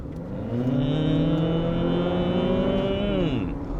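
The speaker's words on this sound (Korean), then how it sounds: "가속 페달을 꾹 밟으면 소리 커지면서 속도도 같이 올라가는" A Honda CR-V Hybrid engine note climbs smoothly and steadily under acceleration, holding a rising hum for a few seconds before dropping away; close, with no talk.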